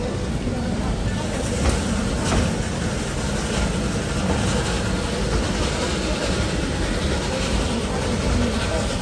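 The Dixiana Shay steam train at Roaring Camp Railroad in Felton rolls steadily along the rails, a dense, constant rumble and clatter heard up close from on board.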